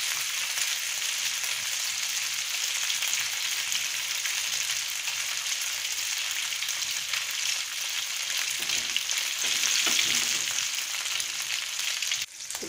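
Fish frying in oil in a pan, a continuous close sizzle that swells slightly toward the end before a brief clatter as it is handled.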